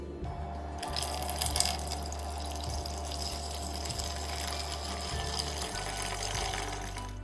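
Warm water poured from a container onto sourdough starter in a kitchen, a steady splashing trickle with a low humming tone underneath, running continuously and fairly close.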